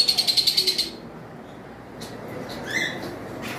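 An albino cockatiel from a breeding pair in a bird shop gives a quick burst of about eight bright, rhythmic chirps, then quiets. Only faint scattered calls rise over the shop's background hush after that.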